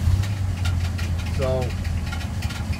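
A 1947 GMC generator spun like a motor gives a steady, low mechanical hum with a faint rhythmic pulse, continuous and close, while someone speaks over it.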